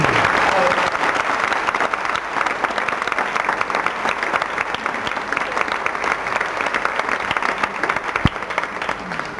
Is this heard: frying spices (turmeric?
no